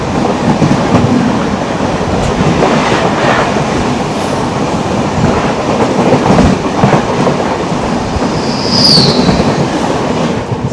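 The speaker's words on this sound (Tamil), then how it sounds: "சடனாக ஒரு ட்ரெயின்" A train thunders past loud and close on a rail journey through Kerala near Thiruvalla station, a continuous rushing rumble with clattering wheels and a brief high squeal near the end.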